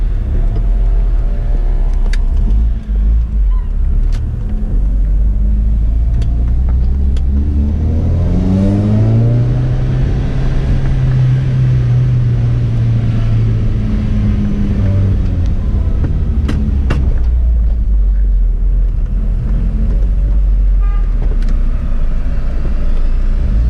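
Toyota Corolla AE111 engine induction noise while driving, a loud, deep intake roar that climbs through a rev sweep, peaks, and settles back to a steady drone, heard from inside the car.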